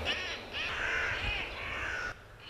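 A 64-year-old man imitates crow calls with his voice, giving a string of loud, harsh, close caws that run almost continuously, with a brief dip between calls.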